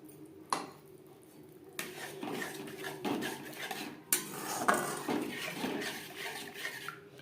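A spoon scrapes and clinks in a pan as a paste of cashews, raisins and melon seeds ground with milk is mixed into cooked spices for vegetarian navratan korma, with close, irregular metallic taps and stirring strokes.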